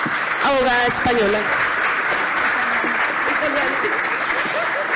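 Steady applause from a conference audience welcoming a speaker at a peace-building event, filling the whole stretch at an even level while a voice speaks over it.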